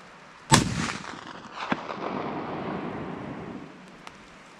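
A single .458 SOCOM rifle shot firing a Hornady 250-grain MonoFlex bullet outdoors, one sharp loud crack followed by a long rolling echo that fades over several seconds, with a faint distant tap near the end.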